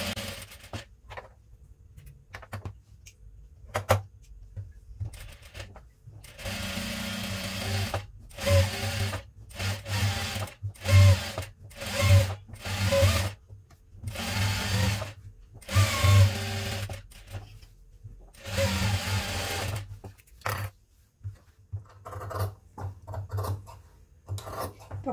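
A sewing machine stitches along the canvas edge of a blouse back, running in short intermittent bursts with a steady low mechanical hum between pauses, close and fairly loud.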